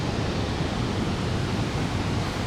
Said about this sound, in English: You can hear the water coming down that way